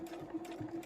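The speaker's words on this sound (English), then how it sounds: "and then I'm going to sew all the way along." A sewing machine runs steadily, stitching along the seam of a large crossbody phone pouch. It keeps a fast, even hum with faint rhythmic ticks, quiet and close, and no voices.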